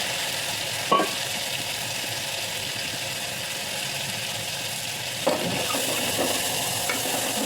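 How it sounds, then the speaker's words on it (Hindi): Ground ginger-garlic masala paste frying in a home-kitchen pan gives a steady, close sizzle throughout, with two sharp clinks as it is stirred in, no voices. "जो मसाला पीस के रखा था, अदरक लहसुन और ये सब पूरा मसाला पीस के रखा था, वो मैं डाल दूँगी इसमें"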